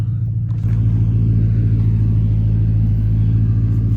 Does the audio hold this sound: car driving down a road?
yes